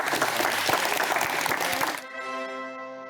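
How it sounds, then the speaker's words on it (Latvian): An audience claps together for about two seconds, a dense burst of applause that cuts off abruptly into a sustained tonal hum. "Visi aplaus."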